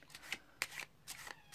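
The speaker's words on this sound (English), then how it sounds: "the overhand shuffle" Playing cards riffle in quick papery bursts during an overhand shuffle on a card mat, three or four soft slaps and flutters in close succession, heard up close with no talking.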